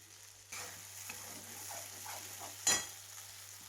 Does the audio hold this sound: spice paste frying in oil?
yes